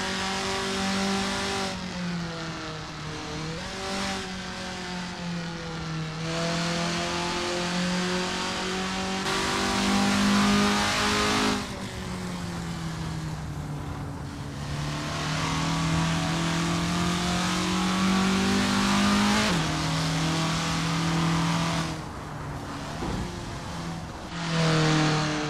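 A Formula Ford race car in a sim racing game eases out onto the Brands Hatch GP circuit, its engine droning steadily and rising and falling through gear changes, loud and continuous with no talk.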